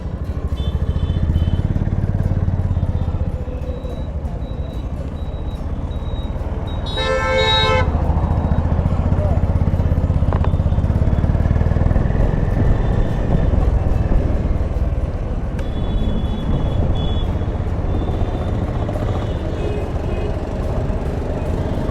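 A Honda H'ness CB350 motorcycle on a test ride: a steady, loud engine and road rumble runs throughout, with a short horn toot partway through.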